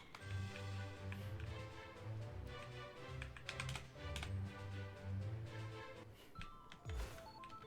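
Rapid computer keyboard typing during Maplestory gameplay makes a continuous quiet clatter of keystrokes over faint background game music.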